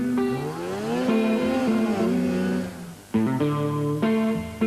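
Several snowmobile engines rev and labour through soft, deep snow during a 1995 Raid Tundra race in Finland, their pitch rising and falling in sustained sweeps, loud and close, with a brief dip before the engines surge again.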